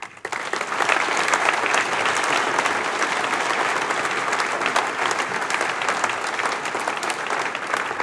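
An audience at an evening awards banquet breaks into a full, steady round of applause, a dense, even wash of many hands clapping close by that continues throughout with no speech over it.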